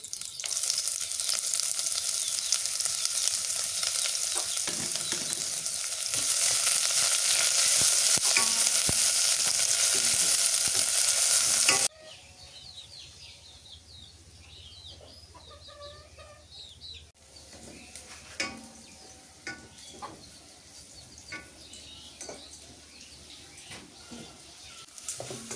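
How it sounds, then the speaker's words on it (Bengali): Chopped onions and spices frying loudly in a pan, a dense steady sizzle that drops to a quieter crackle with stirring scrapes partway through, with faint chicken clucks in the background. "পেঁয়াজ মশলা ভাজা হয়েছে, এবার মাংস দিয়ে দিই।"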